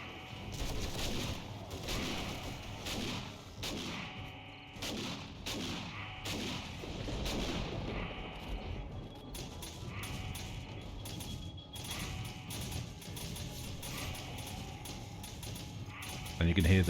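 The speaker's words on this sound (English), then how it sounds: "you can hear the sweet sound of the shotguns firing." Automatic shotgun turrets firing in the survival game 7 Days to Die, eight of them aimed at a base stairway during a horde attack, giving a dense run of repeated gunshots and impacts amid continuous chaotic game noise, with a voice talking over it.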